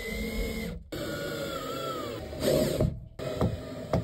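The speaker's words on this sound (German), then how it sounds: "Letzte Schraube rein und fertig." A power screwdriver drives a final screw into the interior fit-out of a Piaggio Ape 50 micro camper, a whirring mechanical buzz that runs in short bursts with brief pauses, close and fairly loud, with no talking.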